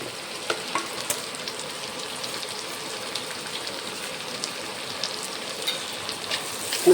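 Onion, curry leaves and green chili fry in a pan with a steady, hissing sizzle, close and moderately loud, with light stirring scrapes and small pops scattered through.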